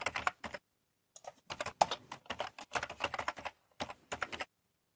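A computer keyboard clatters as someone types a comment into an online store's web form, with quick bursts of crisp keystrokes broken by short pauses, close and clear with no talking.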